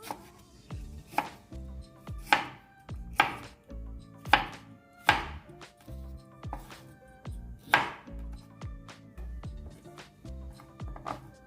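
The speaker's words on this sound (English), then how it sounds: "Then we're gonna cut these sweet pepper a little smaller." A knife chops sweet peppers into small pieces on a board, giving a steady series of sharp, close, fairly loud strikes with no talk.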